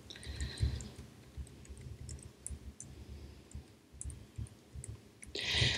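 Fingers tap on a computer keyboard in a rapid, uneven run of soft clicks, close but quiet, with no talking.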